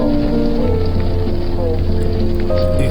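Heavy rain falls on a car in the city, a loud, constant drumming hiss, with a low engine hum and faint tones mixed in.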